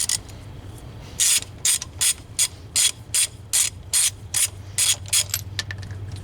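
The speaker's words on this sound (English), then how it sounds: "So I already broke the lug nuts loose with this long 1/2 inch socket or ratchet, and now we just have to take the wheel off." A long 1/2 inch ratchet spins wheel lug nuts off a Pontiac Grand Am, clicking in a rapid series of about a dozen evenly spaced bursts, close and loud over a low background hum.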